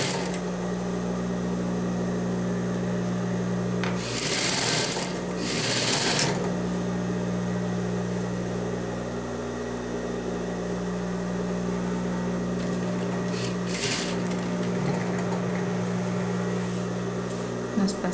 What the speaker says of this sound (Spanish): Solo vamos a pasar una costura para fijar y fijar en la cintura para que no se mueva.